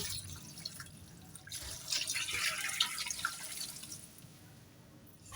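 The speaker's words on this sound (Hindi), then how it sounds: "यहाँ मैंने 4 गिलास पानी लिया है, ये भी इसमें शामिल कर देंगे।" Four glasses of water poured into a cooking pot holding meat with ginger-garlic paste for a butt masala curry, heard as a steady close splashing and trickling stream with drips, swelling in the middle and easing toward the end.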